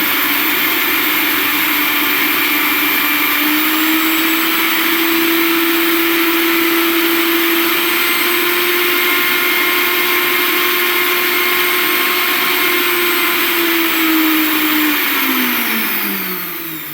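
A Philips HL7756/01 750W mixer grinder's steady electric motor whine hums continuously, loud and close, then winds down in pitch near the end as it spins to a stop.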